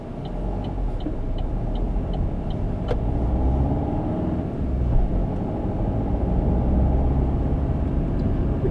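A car driving along a road on the Naas route gives a steady, close engine and tyre rumble throughout, with a faint run of regular ticks early on.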